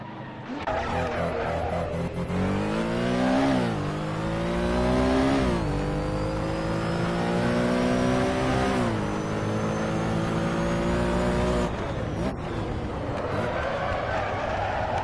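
A Porsche racing engine in the Assetto Corsa video game drones and climbs through gears while tires squeal and skid in long stretches, loud and continuous, with brief pitch drops between shifts.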